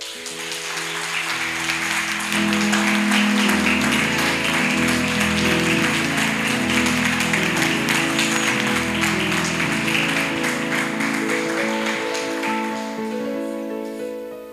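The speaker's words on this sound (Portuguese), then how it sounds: "Vamos aplaudi-los." Church congregation applauds during a Sunday service, a steady wash of clapping that lasts throughout and runs under loud sustained keyboard or organ chords.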